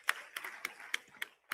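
A handful of sparse, sharp hand claps in the House of Representatives chamber, six distinct claps spaced unevenly over a second and a half and heard faintly in a quiet room.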